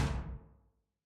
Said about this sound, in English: Sounded like a door banging in the wind.